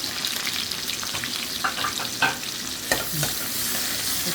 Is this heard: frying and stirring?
yes